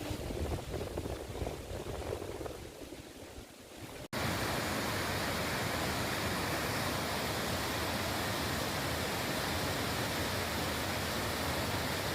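Rushing water roars loudly and continuously, a dense, unbroken wash of sound from the nearby Mençuna Waterfall in Arhavi, Turkey, after a quieter outdoor stretch at the start.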